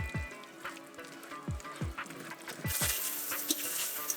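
Red wine simmering and cooking off in a pan, a soft bubbling sizzle with repeated gentle pops, fairly faint and close, growing slightly brighter toward the end; no talking.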